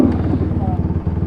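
A two-stroke dirt bike engine buzzes close with a rapid, pulsing rasp, heard under someone talking.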